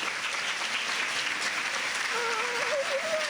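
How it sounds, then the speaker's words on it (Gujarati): Audience applause at a school talk on the history of Christianity, a steady wash of many hands clapping, with a faint voice or tone rising near the end. "ઘણી બધી જોરદાર તાળીઓથી વધાવીએ"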